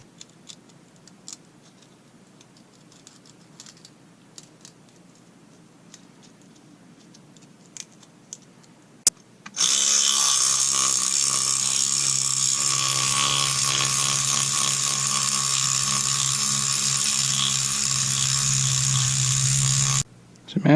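50 grit sandpaper rubs against a split screw mandrel during a Husqvarna 372 chainsaw rebuild, making a loud, steady buzzing rasp up close for about ten seconds after a quiet stretch of faint clicks and shuffling.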